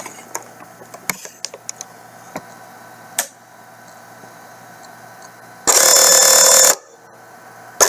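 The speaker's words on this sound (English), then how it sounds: "So the first noise you heard was the drive motor." Stacker unit drive motor with stripped gears running, a loud, harsh buzzing burst lasting about a second after scattered faint ticks and clicks.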